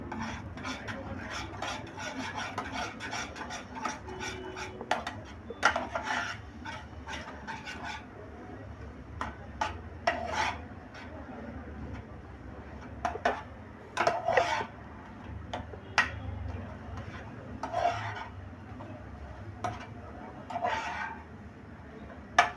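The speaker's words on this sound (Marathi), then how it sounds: "झाल्यावर लगेचच आपल्याला फेटलेलं अंड टाकायचं आहे, नाहीतर तिखट जळून जाईल. आणि आता मिक्स करायचं." A spoon scrapes and stirs beaten egg around a hot pan for egg bhurji, making soft, rhythmic rasping strokes with occasional light knocks against the metal; fairly quiet and without talk.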